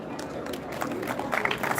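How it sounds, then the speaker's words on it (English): A crowd gathered outdoors for a community fun run applauds and cheers as a warm-up team is welcomed onto the stage, a dense wash of clapping with voices mixed in, rising toward the end. "Guys, give a huge round of applause."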